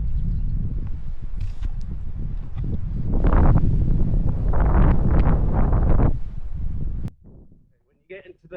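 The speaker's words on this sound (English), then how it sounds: "When you get into the open spaces, and the wind is really strong." Strong wind buffets the microphone in open country along a 10-mile trail run at Devil's Dyke near Reach, a steady roaring rumble with gusty surges before it drops off sharply near the end.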